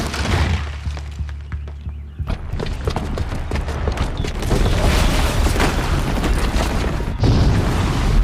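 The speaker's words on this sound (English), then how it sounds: "the booby trap on the bomb downstairs is gonna get set off" A bomb blast in the Horizon Zero Dawn video game booms loudly and then keeps going as a sustained, crashing rumble with debris-like cracks, heavy and close throughout.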